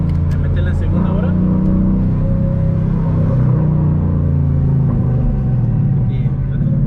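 A Ford Mustang 5.0 accelerates in second gear with a steady, loud engine rumble and droning drivetrain hum heard from inside the car, while people talk over it.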